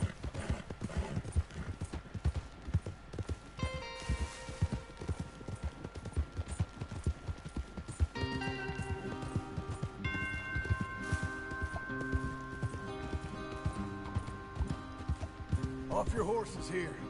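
Rhythmic hoofbeats of several horses clatter steadily under game music and speaking voices in Red Dead Redemption 2.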